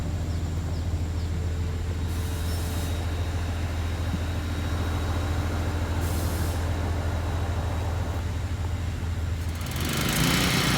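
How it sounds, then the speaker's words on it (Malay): Concrete mixer truck at a house construction site with a deep, steady engine rumble throughout, short hissing air bursts, and a louder surge near the end. "kita punya lori siput pun dah sampai"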